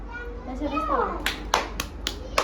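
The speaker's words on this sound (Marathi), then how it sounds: "वा टाळ्या वाजा ना टाळ्या" A few children clap their hands in short, separate bursts after a voice, the claps close and sharp over a low background hum.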